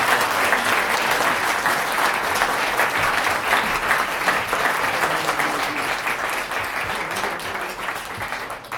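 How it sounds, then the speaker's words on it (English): A large audience applauds debate teams at an international public policy forum awards ceremony, a dense, steady wash of many hands clapping that runs loud and unbroken throughout. "Let's give them a big round of applause before we announce the winner."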